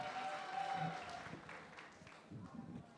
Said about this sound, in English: a big round of applause for Noreen and Mr.